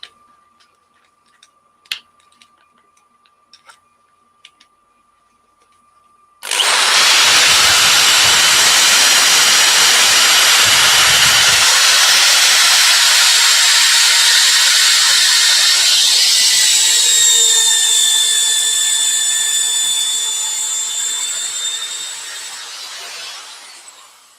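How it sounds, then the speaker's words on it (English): A yew crotch bowl spinning on a wood lathe is sanded, giving a loud, steady, close hiss that starts abruptly after a few quiet ticks, shifts to a whining tone, then fades slightly as it winds down. "that's sanded to 240"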